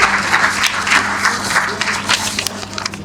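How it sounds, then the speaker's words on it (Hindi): A packed conference auditorium at the Bharat Ke Maharathi 3.0 event bursts into loud, sustained applause from a large seated crowd, dense clapping continuing steadily without pause for several seconds. "एक बार जोरदार तालियों के साथ उनका स्वागत करें।"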